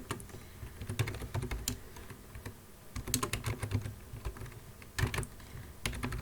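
Someone types a list name on a computer keyboard, producing bursts of close, crisp key clicks in uneven clusters with short pauses between them.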